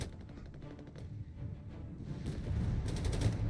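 Rocket artillery firing in Company of Heroes 3, heard as faint distant bursts of rapid launches and rumbling impacts, building slightly louder toward the end in a busy battle soundscape.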